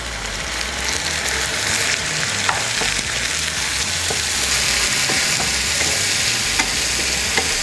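Shallots and garlic paste with mushrooms frying in hot oil, a loud steady sizzle close by with occasional stirring ticks throughout.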